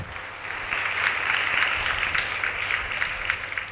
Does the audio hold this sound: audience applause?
yes